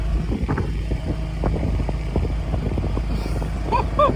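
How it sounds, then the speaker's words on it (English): A seed tender starts up and runs on a farm during planting, with a low, steady engine rumble and scattered mechanical knocks and clunks nearby, plus a few brief squeaks near the end. "Joseph just started up the seed tender"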